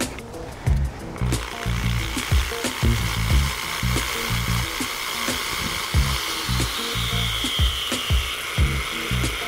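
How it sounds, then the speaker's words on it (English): A power drill with a half-inch step bit bores through the metal splash shield of a Land Cruiser's lower quarter panel, whirring in short, uneven bursts with grinding catches and small pauses, close by, with no speech. "So I'm drilling it out with a half inch diameter step bit."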